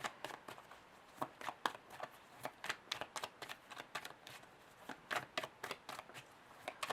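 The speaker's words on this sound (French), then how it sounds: "Je vais aller tirer quand même d'autres cartes pour préciser ça." Tarot cards are shuffled and drawn close up, a quick run of crisp riffling snaps and flicks with brief pauses between them, with no voice over them.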